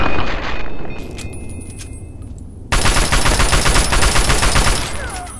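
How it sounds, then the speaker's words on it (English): Submachine gun fire in Fallout 3, with loud, rapid bursts of shots that drop to a quieter spell, then a sudden, sustained stretch of dense automatic firing. "Oh, she was using a submachine gun."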